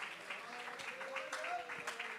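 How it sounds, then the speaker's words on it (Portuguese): A church congregation clapping hands steadily in worship, soft and somewhat distant, with a voice speaking over the applause. "louvem a Jesus, batendo palmas e dando glórias"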